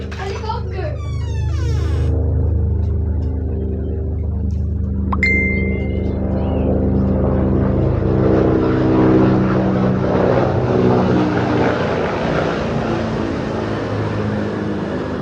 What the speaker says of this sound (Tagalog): Uy, helicopter! Helicopter!